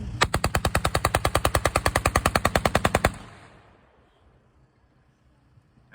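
A WWI-era machine gun fires 8mm ammunition at about 450 rounds per minute during a First World War reenactment demonstration: a loud, steady, rapid burst of evenly spaced shots lasting about three seconds, then a fading echo and near silence.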